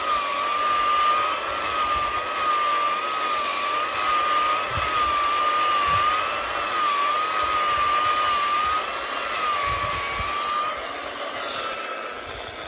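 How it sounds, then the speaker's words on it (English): An EGO cordless bristle brush power tool with a dethatching attachment runs steadily against lawn grass, giving a loud, continuous motor whine with a high tonal hum and brushing noise, with occasional low wind buffeting rumbles and no talking. "my Ego bristle brush to dethatch a lawn."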